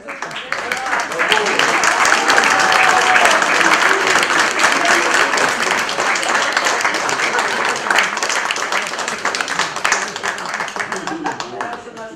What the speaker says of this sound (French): nos plus enthousiastes et respectueux applaudissements